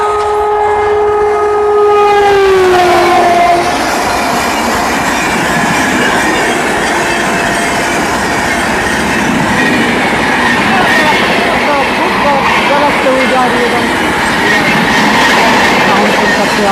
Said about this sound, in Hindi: हॉकिंग सुनिए और फ्लैट 130 की स्पीड से आती हुई ट्रेन